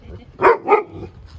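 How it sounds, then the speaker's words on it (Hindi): A dog barks twice in quick succession, loud and close, with only faint background noise around the barks. "वो खुद भौंकता है।"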